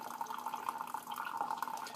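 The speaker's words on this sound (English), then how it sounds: "you can really see the advantage of having this slow pour tea kettle because you're able to really get a nice consistent pour" Hot water poured from a slow-pour kettle onto coffee, a steady, fairly quiet trickling stream with a consistent flow and faint splashes, heard alone.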